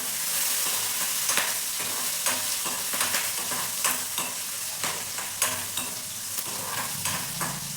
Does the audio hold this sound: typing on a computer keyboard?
no